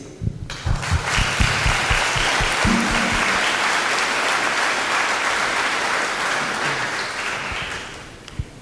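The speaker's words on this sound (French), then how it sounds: "Avec nous, frères et sœurs, acclamons Dieu pour le remercier." A church congregation at a Sunday mass anniversary celebration bursts into sustained applause, many hands clapping together loudly and steadily for several seconds before tapering off.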